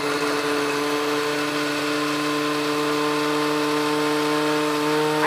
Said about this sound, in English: your blender's doing a good job